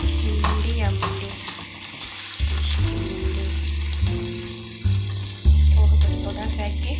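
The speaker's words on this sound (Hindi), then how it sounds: "थोरा फ्राई के फिश असांजी तक़रीबन फ्राई थी वई आहे" Fish sizzles in a pan for Sindhi fish pulao. The frying crackles steadily, and loud low thumps and clatters from moving the pieces and handling the pan come in uneven bursts.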